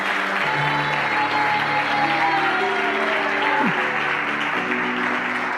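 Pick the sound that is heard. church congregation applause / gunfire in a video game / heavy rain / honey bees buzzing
church congregation applause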